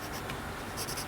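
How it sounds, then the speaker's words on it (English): Pencil drawing a pattern on paper, a soft continuous scratching of graphite across the sheet, close and faint with brief louder strokes. "then I'll use a darker pencil to put the pattern on"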